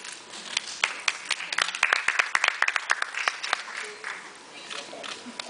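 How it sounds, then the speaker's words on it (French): An award ceremony audience breaks into applause, a burst of sharp, scattered claps that builds and then thins out, heard at moderate distance in a hall. "Vos applaudissements, s'il vous plaît."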